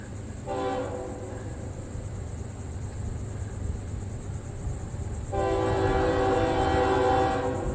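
A Miami-bound intermodal freight train with manifest cars, near St. Augustine, sounds its horn in two long blasts, the second louder and sustained, over a steady rumble of passing rail cars.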